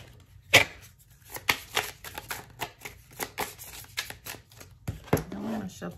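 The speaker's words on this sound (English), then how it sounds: "I'm gonna have to cut this deck because shuffling is not shuffling the way I need it to shuffle." A tarot deck is shuffled close up in a rapid series of riffling, slapping bursts, with a few faint murmurs between.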